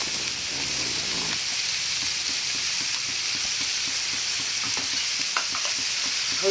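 Drumsticks fry with salt and turmeric in a pan, giving a constant soft sizzle and hiss with faint stirring taps underneath.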